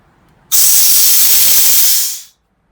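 Air bursts out of an MR45 unit after its self-test as a loud, close, steady hiss that starts abruptly, holds for nearly two seconds, then tapers off into silence.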